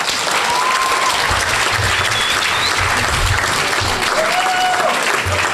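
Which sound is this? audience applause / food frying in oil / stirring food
audience applause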